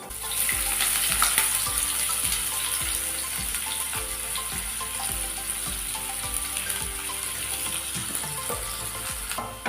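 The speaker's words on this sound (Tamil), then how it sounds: "ஆனியனை ரோஸ்ட் பண்ணி எடுத்துக்கிறோம்" Loud, steady frying hiss from a pan of onions, with a spatula knocking and scraping at a regular pace throughout, close by and without speech.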